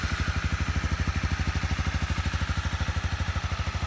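A 1985 Honda Nighthawk 650 motorcycle idles nearby with a steady, rapid, thumping engine pulse and even rhythm throughout, no voices over it.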